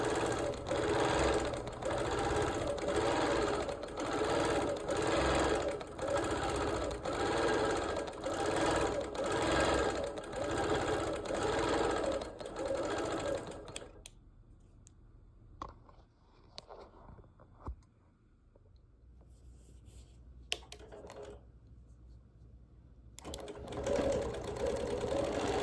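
A sewing machine stitches a meandering quilt design with a loud, fast, continuous mechanical whir, then stops for several seconds of quieter handling noise before briefly starting again.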